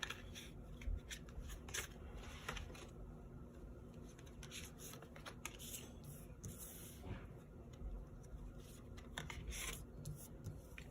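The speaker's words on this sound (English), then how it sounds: "Let's pull some clarifying cards." Tarot cards being shuffled and pulled from the deck, giving soft papery riffles, rubs and flicks that recur across the whole stretch with no one speaking.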